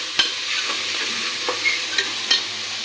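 A spoon stirs tomato rice with mint and coriander in a hot pan, giving a soft steady sizzle with a few sharp scraping clicks at irregular intervals, close and with no voices.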